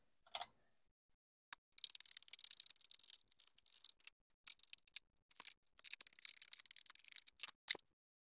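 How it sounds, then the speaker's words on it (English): Screws are being backed out of the body of a Club Car DS golf cart with a screwdriver, giving faint close scratchy clicks and ratcheting scrapes in short bursts with quiet gaps between. "I'm just going to take my screwdriver and unscrew these"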